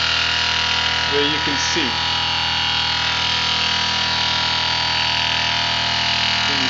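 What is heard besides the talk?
BLDC motor spinning at 2,400 RPM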